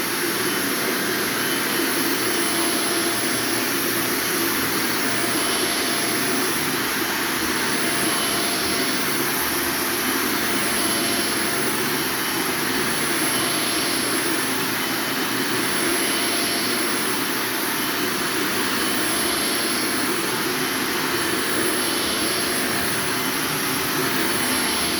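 A vacuum cleaner runs steadily during a clean out of an empty house, giving a loud, continuous whooshing drone that holds level throughout with no talking.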